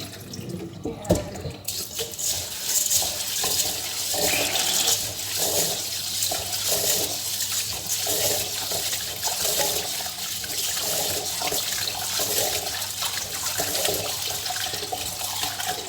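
Basmati rice being rinsed under a running kitchen tap, a steady close rush of water that splashes into the bowl without pause for the whole stretch.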